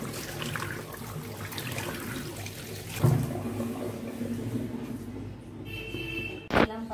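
Running water splashing steadily as Crocs are washed by hand during house cleaning, close and continuous, with a thump partway through and a brief clatter near the end.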